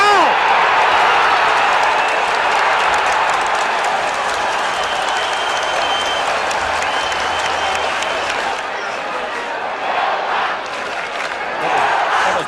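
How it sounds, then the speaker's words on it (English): A packed football crowd at Moorabbin roars wildly after an Essendon goal in a 1980 St Kilda versus Essendon match, a loud, dense, sustained wall of cheering and shouting with scattered clapping throughout. "the Moorabbin crowd going berserk"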